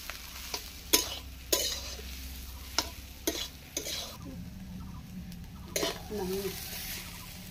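Potato filling for aloo chop stirred and dry-fried in a pan, a spatula scraping in repeated sharp strokes over a low steady sizzle, close by, with faint background voices.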